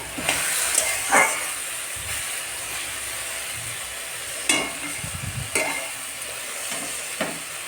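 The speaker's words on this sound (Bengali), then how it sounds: "বাঁধাকপি, আলু আর গাজর ভাজা হচ্ছে।" Cabbage, potato and carrot sizzle and hiss in a hot pan, with occasional scraping stirs and clinks cutting through the steady frying.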